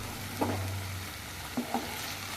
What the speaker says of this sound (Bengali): এই যে দেখতেই পাচ্ছেন এটা নাড়াচাড়া করে নিচ্ছি